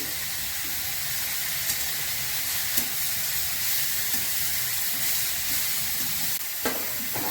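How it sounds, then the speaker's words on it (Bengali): Green chillies frying in a pan for radish chhechki, a steady broadband sizzle with faint stirring clicks throughout, fairly close and continuous with no talk. "কিছু কাঁচা লঙ্কা দিলাম"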